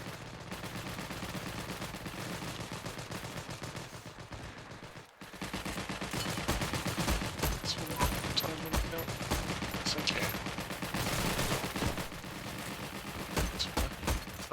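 MG13 machine gun firing in Heroes and Generals, with long sustained bursts of rapid, loud automatic fire, a brief break midway, then heavier continuous shooting.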